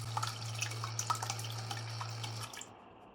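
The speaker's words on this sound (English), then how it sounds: "As you can see, the water is flowing, everything works." Water from a repaired WAUDOG automatic pet waterer pump trickles and splashes steadily, with small drips, under a constant low pump hum that stops near the end.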